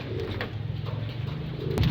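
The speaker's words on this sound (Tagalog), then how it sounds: "pumasok na lahat ng kalapati natin" Pigeons coo steadily at close range while being fed, a soft low rolling murmur with overlapping calls from several birds and no talking.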